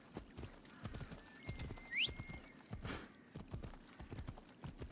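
Horse hooves clip-clop at a steady walking rhythm in the video game Assassin's Creed Odyssey, moderately close, with a brief whinny-like tone and game ambience around them.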